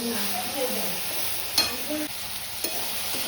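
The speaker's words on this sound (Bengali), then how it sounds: "লাল শাক ভাজা কমপ্লিট।" Red amaranth greens (lal shak) fry in a pan with a soft, steady sizzle, broken by a few sharp scrapes of a spoon stirring them, close and fairly quiet.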